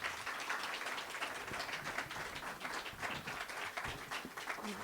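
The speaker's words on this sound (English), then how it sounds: "Please give a round of applause for Diane Taylor." Audience applause rises at a live writers' showcase in Las Vegas, a soft, continuous patter of many hands clapping at a distance, fairly faint and without speech over it.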